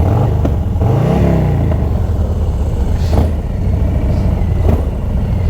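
A lowrider car's engine revs up and falls back on a city street, a loud, close mechanical growl with a rising and falling pitch and some clattering in the background.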